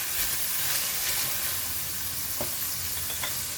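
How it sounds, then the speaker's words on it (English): Fish balls fry in hot oil with shallots, giving a dense, continuous sizzle and hiss up close, with a few small pops and stirring scrapes. "I'm going to fry the fish ball first until it's cooked."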